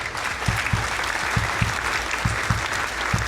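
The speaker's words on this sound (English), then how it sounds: "I'm going to give you a clap anyway." A single person clapping hands at a steady, even rhythm, about three claps per second, close and clear over a hiss of background noise in a live show setting.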